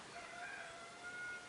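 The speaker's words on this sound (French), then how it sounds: "que depuis le début, il y a un coq qui crie" Rooster crowing in the background, a faint and drawn-out call that rises and holds, heard from some distance with steady ambient hiss and no talk over it.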